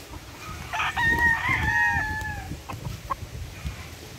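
A rooster of a gamefowl bloodline crows once, a clear near call lasting about a second and a half with a falling tail, followed by faint clucks over quiet background noise.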